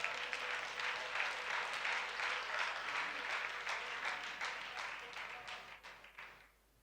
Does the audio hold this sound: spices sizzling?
no